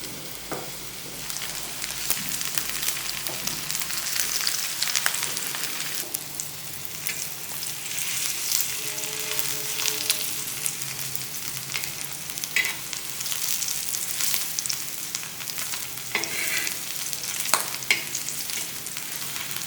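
Chopped onions fry and sizzle steadily in a pan for Malvani-style prawn curry, a broad continuous hiss with occasional scraping stirs and clinks, close and fairly loud throughout with no talking.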